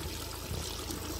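Cold natural spring water pouring from a hillside drinking source in Chakrata, a short, soft, steady trickle and splash heard alone without talk.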